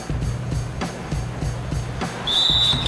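In the fourth quarter of a professional basketball game in an arena, a referee's whistle gives one short, sharp blast near the end, over a steady crowd roar and rhythmic thumps.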